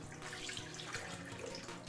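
Milk being poured into a mixing container for salted chocolate ice cream, a steady liquid gush running through the whole stretch with no talk over it.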